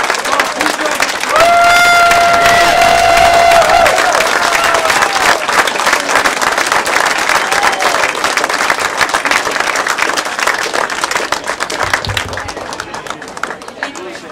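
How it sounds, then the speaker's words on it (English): Loud crowd applause and cheering at a labor supporters' event at the House of Labor for Governor-Elect Dayton, with whoops and a whistle early on, then dense clapping and chatter that carries on strongly throughout. "Let's give a big round of applause tonight."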